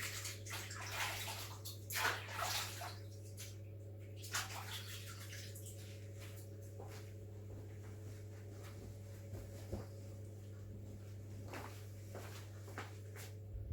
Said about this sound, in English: I'll just wash my hands off again.